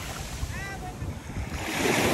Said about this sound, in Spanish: El oleaje siempre es el mismo.